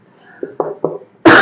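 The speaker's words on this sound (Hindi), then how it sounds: "जैसे कि हम अभी खांस रहे हैं जी" A person coughs a few times in short, dry bursts that get slightly stronger, then a louder sound cuts in at the end.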